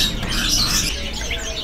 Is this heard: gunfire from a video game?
no